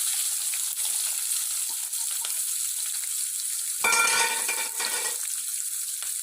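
Onion, green chilies and cumin fry in hot oil in a pan, giving a continuous hissing sizzle, close and steady, with a louder crackling burst partway through as more ingredients hit the oil. No voices are heard.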